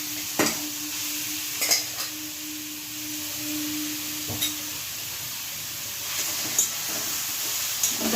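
Carrot and cashew paste stirred in hot ghee, a steady low sizzle with a few distinct scraping strokes of a spoon against the pan spread across the stretch, and no talk.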